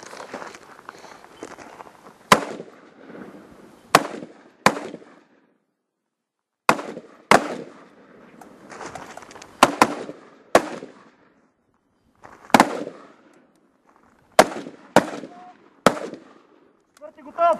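Gunshots on the shooting stage of a commando challenge in Bulgaria, about a dozen sharp, loud cracks in uneven groups with short gaps, close by, with muffled talk and movement between shots.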